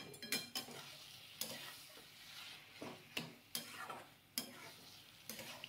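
A spoon stirs a chicken and potato filling with chopped green chilli in a pan, giving repeated scraping strokes in an irregular rhythm over a faint sizzle, close and fairly quiet, with no talking.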